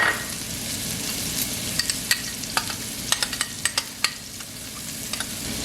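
Finely chopped shallots and garlic hit a hot pan and sizzle with a soft steady hiss, punctuated by a series of sharp spoon taps and clicks against the pan, close up with no voices.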